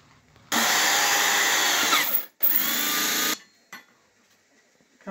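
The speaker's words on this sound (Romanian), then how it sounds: "Și vom da niște șuruburi mai mari." A power drill drives large screws into rectangular tubing for a homemade holiday tree decoration, whining loudly in a long steady burst, briefly stopping, then a second burst before cutting off to near silence.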